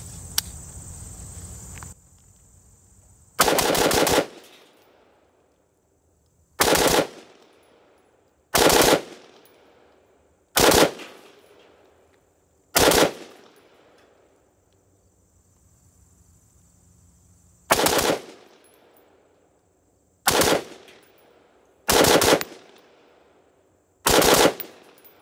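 Rifle firing Winchester 5.56 55 grain FMJ rounds outdoors: ten sharp, loud shots spaced a couple of seconds apart, each with a ringing decay, with insects chirping faintly in the quiet gaps.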